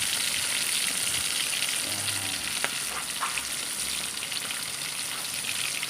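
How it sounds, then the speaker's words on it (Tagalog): Dorado fish frying in oil in a pan, a continuous crackling sizzle with a few clinks and stirring scrapes near the middle, close and steady throughout. "ito nag-fry ako ng isdang dorado"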